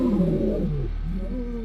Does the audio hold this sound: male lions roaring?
yes